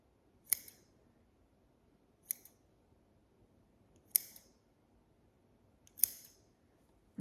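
Scissors cutting craft material for a handmade gnome, four crisp separate snips spaced about two seconds apart in a quiet room.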